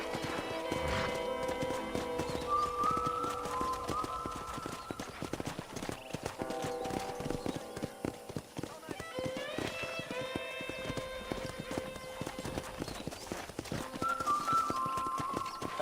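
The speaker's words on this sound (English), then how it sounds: "let's see if you can still ride a horse." Horse hooves clip-clop steadily through most of this ranch ride in Red Dead Redemption, under game music with an occasional whinny, fairly close and continuous.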